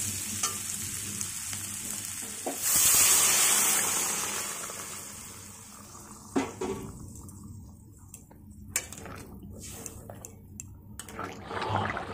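Water poured into a pan of frying pointed gourd curry: a loud rushing hiss and bubbling surge, then settling into quieter sizzling with a few sharp clicks and utensil knocks.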